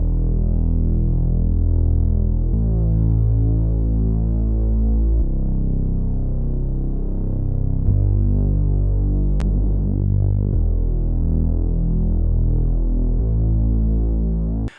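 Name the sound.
Reese bass synth with pulse width modulation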